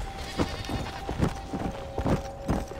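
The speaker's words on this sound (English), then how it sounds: "At least the goats are untouched." Repeated short bleats from goats in the video game Red Dead Redemption: Undead Nightmare, about five in quick succession, moderately loud against a steady background tone.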